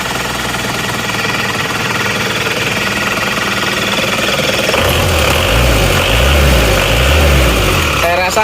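A 22-year-old Isuzu Panther diesel engine idles cold at close range with a steady, loud, clattering rumble that thickens into a heavier throb partway through.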